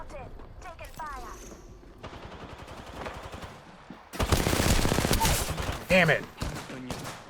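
Rapid bursts of automatic gunfire in the video game Apex Legends, louder near the end, heard under a voice talking over the game audio.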